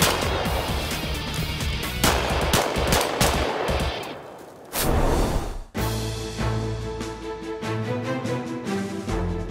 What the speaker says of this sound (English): In Sin City, a mid-season change in sponsors has allowed Dave Savigny to shoot in Handgun Nationals Open Division for the first time.